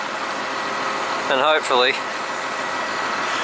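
A boat engine runs at a steady idle as the boat goes from the yard into the water, a constant low hum under a brief spoken phrase.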